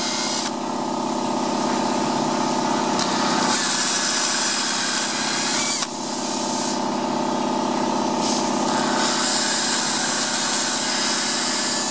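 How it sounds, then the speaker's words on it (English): A high-pitched power drill whines steadily while pre-drilling holes in an interior door, pausing briefly around a few seconds in before spinning back up, loud and close with no talking. "now pre-drill the center of each hole"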